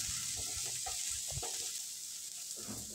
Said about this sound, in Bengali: তারপর একসঙ্গে সবগুলো আমি কিছুক্ষণ ভেজে নেব।